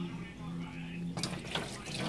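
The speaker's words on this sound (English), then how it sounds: "I'm gonna put some water in this thing and put it to soak." Tap water starts running into a pot of beans set to soak, a short splashing gush that begins abruptly after a quiet hum and someone talking.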